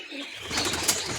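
Large, showy pigeons kept in a loft give a soft, low cooing that runs steadily through the moment, with light rustling around it and no one talking over it.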